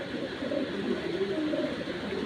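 Cooing from a large, well-balanced pigeon being shown for sale, soft repeated coos close by over a steady low background hum, with no talking.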